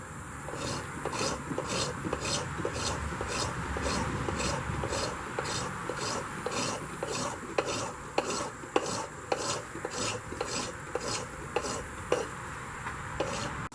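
A piece of wood being worked with a coarse file, giving steady rhythmic rasping strokes about twice a second, close and fairly loud, with a few sharper scrapes toward the end.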